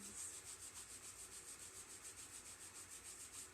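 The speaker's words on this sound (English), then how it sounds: "begin to rub the hands together, create a little bit of heat, a little bit of friction with the hands" Palms rubbing briskly together to build warmth during a restorative yoga session, a steady rhythmic swishing friction, close and soft, repeating evenly throughout with no voices.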